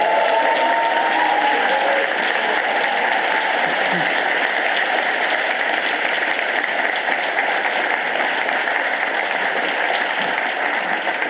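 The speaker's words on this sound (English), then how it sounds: "Could we please have a massive round of applause for everybody who took part?" A large audience applauds the final presenters at a university thesis competition, with sustained, dense clapping held at a steady loudness from start to finish.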